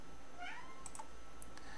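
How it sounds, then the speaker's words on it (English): A pet cat meows once, a rising drawn-out call close to the microphone, over faint room hiss and a few light computer clicks. "That's my cat, Dewey."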